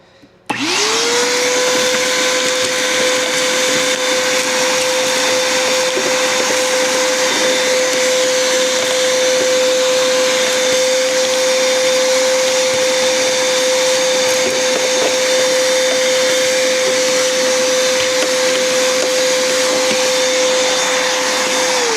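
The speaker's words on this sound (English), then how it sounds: "I gotta get a little vacuum." A small vacuum cleaner whines steadily in a garage during clutch work on a 2012 Ford Focus, starting abruptly and holding a loud, constant drone throughout without talk.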